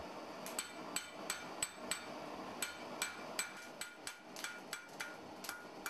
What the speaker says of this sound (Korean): 밤낮 없이 다듬질을 해내느라 장인의 손에서 놓을 새 없던 쇠망치를 이제는 그의 아들이 대신 잡았다.